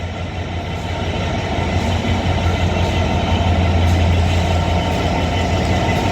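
Avanti West Coast Pendolino electric train 807 003 passes through Rugby station, a steady loud rumble and hum of the train that swells slightly midway and holds throughout.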